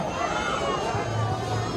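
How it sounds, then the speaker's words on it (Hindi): A festival crowd fills the Jwala Devi temple in Kangra, Himachal Pradesh, a dense continuous babble of many voices close around, with no single voice standing out. "तो इसलिए खास भीड़ भी है मंदिर में"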